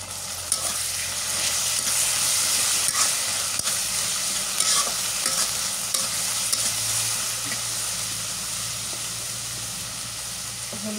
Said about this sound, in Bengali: রসুন বাটা আর পেঁয়াজ বাটা দিয়ে দিলাম।